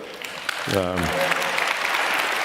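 An audience applauds during a speech about Twitter, a broad sustained clapping that swells in and continues steadily, with a voice briefly heard near the start.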